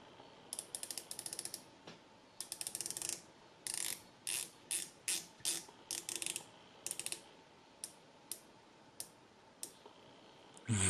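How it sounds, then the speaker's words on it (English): Ceramic bezel of a Venezianico Nereide dive watch being turned in short bursts of crisp ratcheting clicks, close and clear, with brief pauses between each turn. "Very nice bezel action."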